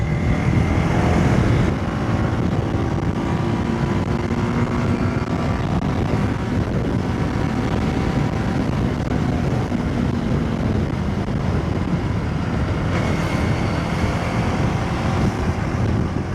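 A TVS Apache RTX motorcycle accelerates hard using its quick shifter, the engine note climbing in stepped rises between gear changes, heard up close under a constant roar of wind rushing over the microphone.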